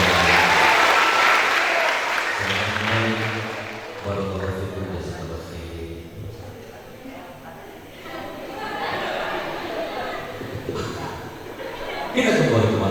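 Applause for third-grade students during a spiritual motivation session, a loud burst of clapping at the start that thins into chatter and chuckles, then swells again near the end, with voices talking over it.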